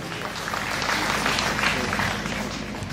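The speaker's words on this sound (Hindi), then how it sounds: "जोरदार तालियों के साथ उनका मंच पर स्वागत कीजिए।" A school stage event where the crowd applauds performers arriving for a recitation, with a broad, steady wash of clapping from a large audience that swells in the middle and holds to the end.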